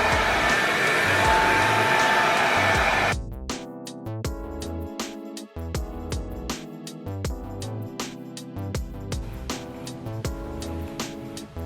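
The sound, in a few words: hair dryer blow-drying 4C natural hair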